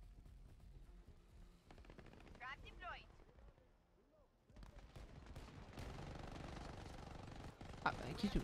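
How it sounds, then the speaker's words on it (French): Gunfire rattles in Shatterline, bursts of automatic shots and impacts crackling in clusters, sparse at first, then denser and louder toward the end, mixed with game effects and some talk. "Ah, les tirs, c'est horrible."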